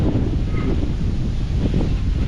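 Wind gusts rumble against the microphone outdoors in a coastal setting, a low, buffeting roar with rustling texture that stays steady and fairly loud for a couple of seconds.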